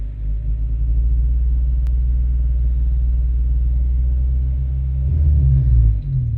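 A car engine during ECU tuning holds a deep, loud, steady rumbling idle, then climbs into a short rise in revs near the end, close by.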